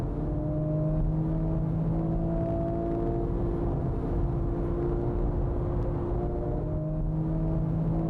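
A Porsche GT3 and a Type R race flat out at Fuji, a loud sustained engine drone with steady rising tones, close and continuous, the GT3 sitting in the slipstream.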